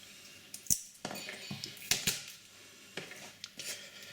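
Garlic cloves being crushed for a jerk chicken marinade make a series of sharp cracks and crunchy clicks, about six or seven scattered over four seconds, close and fairly quiet with no talking.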